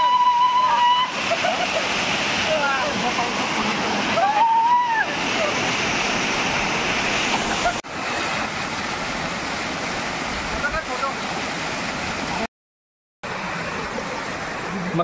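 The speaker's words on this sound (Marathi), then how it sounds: "हा पाटिया धबधबा, गार पाणी होतं एकदम" Patiya waterfall near Rajmachi fort pours cold water in a loud, continuous roar close by, with voices faintly audible beneath it and a brief cut near the end.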